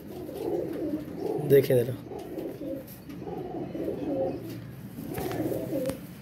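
A female pigeon coos in repeated low, throaty bursts, close and fairly loud, while someone talks over it.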